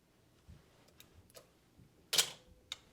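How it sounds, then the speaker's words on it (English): A Canon TX 35mm SLR camera's shutter is released, giving one sharp, fairly loud mechanical clack after a few faint ticks and handling clicks, followed by a smaller click. "a little noisy on the shutter"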